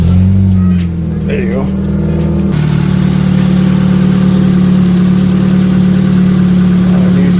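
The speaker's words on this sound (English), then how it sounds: "So now let's turn on the car to see how the engine sounds." A 2005 Nissan Sentra engine with new spark plugs turns over and catches, then settles into a steady low idle hum, with a brief spoken remark near the start.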